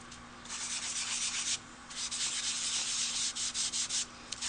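A sponge scrubs excess ink off a stamped card, a close, dry rubbing in quick repeated strokes with a short pause partway through, no talking.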